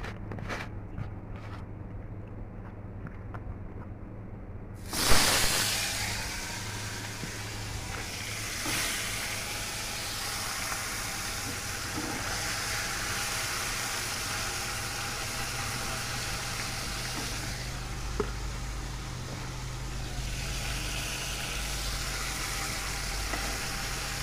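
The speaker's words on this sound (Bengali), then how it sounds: "মাছের মধ্যে সব রকম মশলা দিয়ে মাখিয়ে নিলাম। এবার একে একে সব মাছগুলোকে ভাজবো।" Spiced fish slipped into hot oil bursts into a sudden loud sizzle, then settles into a steady, even frying hiss over a low background hum.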